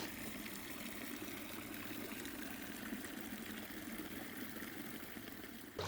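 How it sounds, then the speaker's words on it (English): An Aria garden fountain gives off a soft, steady trickle and pour of water, continuous and faint, with no voices over it. "So this is our Aria fountain that we have here."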